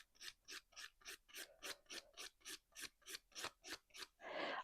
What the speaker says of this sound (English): I'm going to hold this and then file.